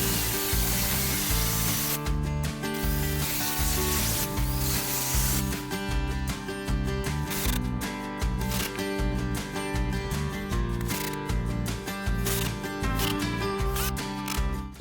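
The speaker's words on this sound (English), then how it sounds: "I wanted to make sure to get all this spray foam done, as you guys can see kind of along the edge right here" Spray foam is applied along the roof edge of a chicken coop converted from an old dog house, heard as a loud continuous hissing spray with rapid pulsing bursts, close up.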